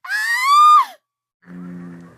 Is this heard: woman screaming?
yes